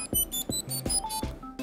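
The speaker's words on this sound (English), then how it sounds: "It even has a buzzer built in." Short electronic tones from the built-in buzzer of a Circuit Playground board, four rhythmic beeps evenly spaced over under two seconds, bright and close with faint ringing overtones and no talking.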